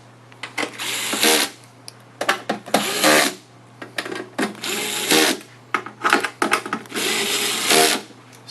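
Bursts of a handheld power screwdriver or drill whirring in short, repeated runs while tightening screws on a Rowe hopper, each burst loud and close with brief pauses between, over a steady low mechanical hum.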